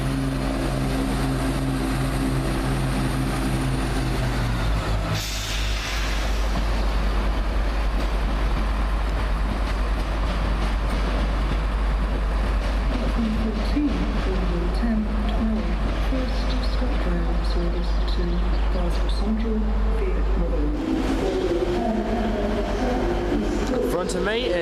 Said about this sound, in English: got a ScotRail Turbo Star coming out as well